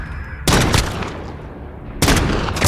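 Gunfire in an Apex Legends or Call of Duty match, with two loud, close bursts of rapid shots standing out above a steady rumble of game noise.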